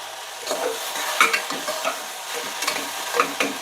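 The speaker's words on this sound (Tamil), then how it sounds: "உப்பு அரைச்ச மிளகாத்தூள் கொஞ்சமாக மஞ்சப்பொடி சேர்த்துட்டு நல்லா மிக்ஸ் பண்ணிவிட்டுலாம்" Mutton masala with onions, salt, chilli powder and turmeric sizzling in a pan, stirred with repeated close scrapes and clinks over a steady frying hiss, without speech.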